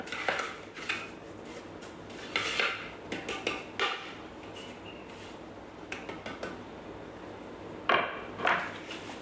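A spatula scrapes down the sides of a Thermomix bowl holding chocolate chip cookie dough, making a string of short scraping and tapping knocks in uneven bursts, close by and fairly quiet.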